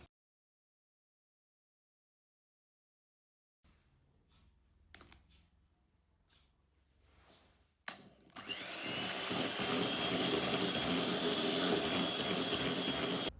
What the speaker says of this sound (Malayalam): ആദ്യത്തെ എഗ്ഗ് ചേർത്ത് എഗ്ഗ് മിക്സ് ആവുന്നത് വരെ മാത്രം ഒന്ന് ബീറ്റ് ചെയ്തെടുക്കാം